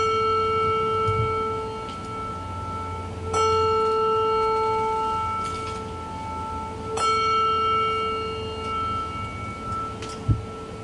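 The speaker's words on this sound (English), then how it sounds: "So what I would like to ask Lisa, if you could please stand and ring the bell 3 times" A bell is rung three times at a church gathering, each strike clear and ringing with a long, slowly fading tone, the strikes evenly spaced several seconds apart in a hushed room.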